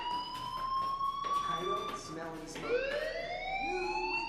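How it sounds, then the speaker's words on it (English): A school fire alarm rings in the video game Life Is Strange, a steady electronic tone sustained throughout under background game audio. "Hey, do you hear that fire alarm?"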